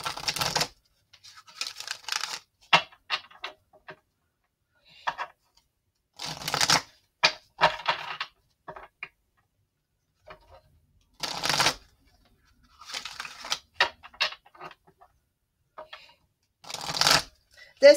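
Halloween oracle cards being shuffled by hand in repeated bursts of riffling and flicking, separated by short quiet pauses, close and clear with no talking.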